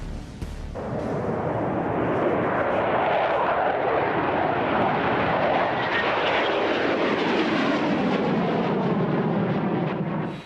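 A Eurofighter prototype jet roars past, its engine noise swelling loudly and holding a broad, rushing thunder for several seconds before easing off, with no voices.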